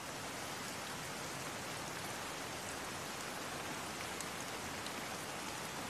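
Steady rain falls and patters on surfaces in an even, continuous hiss that stays constant throughout, moderately loud with no voices.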